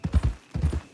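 Horse hooves clip-clop in Red Dead Online, two quick clusters of close, loud hoofbeats in a short rhythmic burst.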